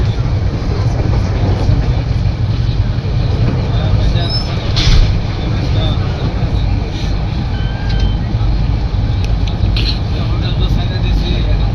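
A Subarna Express passenger train runs from Dhaka toward Chattogram through Ghorashal station in Narsingdi, giving a steady, loud rolling rumble that never lets up, with faint passenger chatter in the background.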